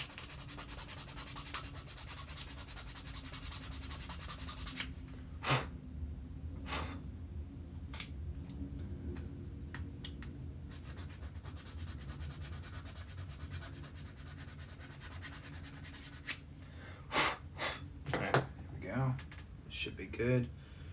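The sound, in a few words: sanding a piece of a toy blaster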